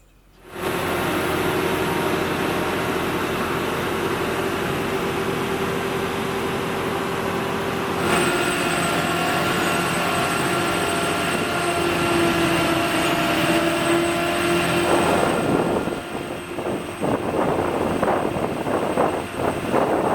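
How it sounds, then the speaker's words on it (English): A Caltrans diesel ferry crossing a river delta, its engine droning steadily and loudly throughout with a constant hum, shifting slightly in tone partway and rumbling more unevenly near the end. "So this is the diesel ferry."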